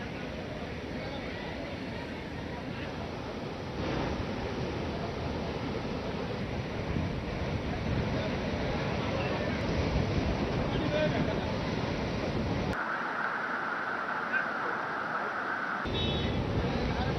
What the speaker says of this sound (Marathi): गोदावरी नदी आता दुथडी भरून वाहते आणि पुराचं पाणी आजूबाजूच्या गावामध्ये शिरतंय।